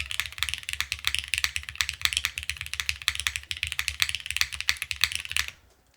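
Close, rapid typing on a plateless Neo65 mechanical keyboard, dense clacky keystrokes with deeper thocks in an even flurry that stops abruptly just before the end.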